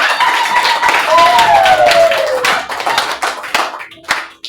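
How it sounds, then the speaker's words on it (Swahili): A church congregation claps along in steady, dense rhythmic bursts, loud and close, while a voice sings or calls over the clapping before it thins out near the end. "Pigia Yesu makofi mazuri."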